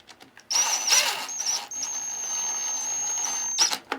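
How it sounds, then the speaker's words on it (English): An impact driver runs screws up snug on a Waterway Executive hot tub pump, giving a high whining motor squeal in two bursts, the second held steady for about two seconds before stopping. "I use my impact the same way. I just use it to run the screws up"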